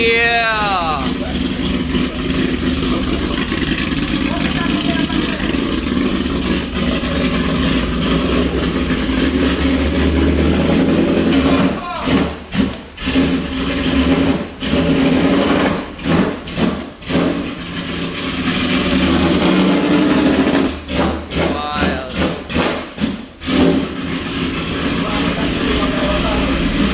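A Nissan Skyline R32 engine drones loudly through its exhaust on a night drive, with the rumble continuous early on and then breaking into choppy pulses and rev changes toward the end.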